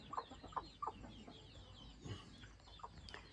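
Farmyard hens with their chicks cluck softly at a distance, a few short, quiet clucks in an irregular rhythm over faint background noise.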